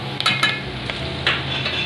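Pasta seasoned with salt and black pepper is stirred with a spoon in a pan, giving a close, continuous sizzle broken by a few light scraping and clinking strokes of metal against the pan.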